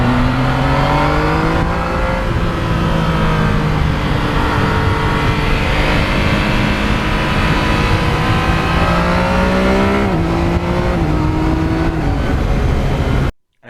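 A 2020 Yamaha MT-09 motorcycle engine heard while riding, a loud continuous close drone that rises and falls through several gear changes, with wind rush over it and no talk.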